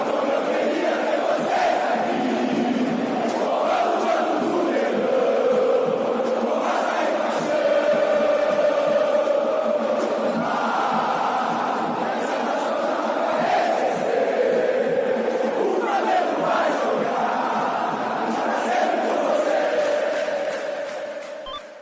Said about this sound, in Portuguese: a torcida do Flamengo sempre canta